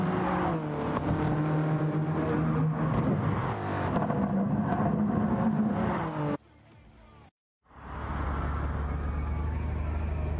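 Race cars start race 2 at Dragon Trail Gardens with a loud mass of revving engines that rise and shift in pitch, then a brief drop-off and the engine roar returning.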